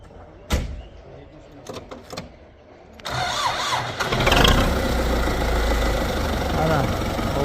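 After a few clicks and knocks, the diesel engine of a Belarus 82.1 tractor cranks and catches about halfway through, then settles into a loud, steady running rumble nearby.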